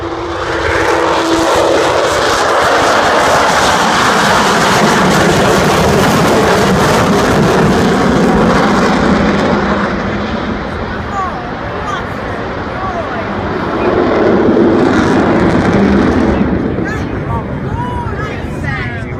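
A loud, continuous roar from the four jet engines of an Avro Vulcan bomber at takeoff fills the air and swells again toward the end, with people chatting over it.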